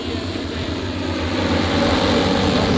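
An agricultural drone spraying a pigeon pea crop flies nearby, its motors a steady, fairly loud drone with no voices.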